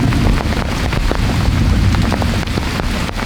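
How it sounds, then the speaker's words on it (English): Heavy rain pounding a makeshift jungle shelter in the Amazon: a dense, constant hiss of downpour with scattered sharper drops striking close by, loud and unbroken, with some wind buffeting. "it's raining quite a lot and quite heavy"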